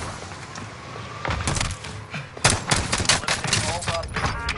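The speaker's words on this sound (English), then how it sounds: "I'm taking fire." Bursts of automatic gunfire in the online shooter Call of Duty Warzone, loud and close, clattering in uneven volleys with game sound effects around them.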